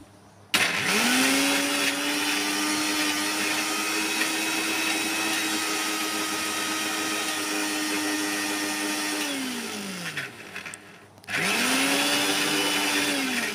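A blender whirs loudly and steadily as it grinds black cumin into a paste. Its motor winds down near the ten-second mark, pauses briefly, then starts up again at full speed.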